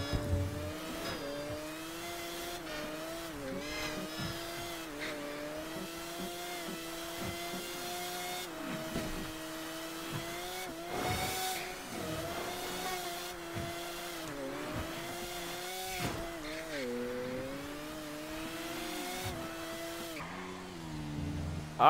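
A car driving in GTA Online, an engine droning with rising and falling revs through gear changes and occasional thuds, steady and fairly quiet for about twenty seconds, no talking.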